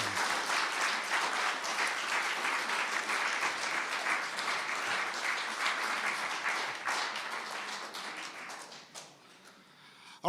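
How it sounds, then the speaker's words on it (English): A live audience at the Klezmerquerque 2023 klezmer concert applauds performer Beth Cohen, a steady, moderately distant wash of clapping lasting about nine seconds before fading out abruptly. "Another round of applause for Beth over here, Beth Cohen."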